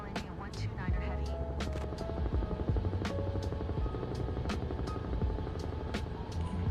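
Helicopter engine and rotor drone in Microsoft Flight Simulator 2024 as the aircraft strains to climb, a constant low rumble with a steady whine, joined by brief clicks and a person talking over it.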